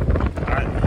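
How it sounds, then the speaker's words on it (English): Strong wind gusts buffet a sailboat at sea near Cape Flattery in rough conditions, a loud, close, blustery roar hitting the microphone throughout the short stretch. "The wind is really strong"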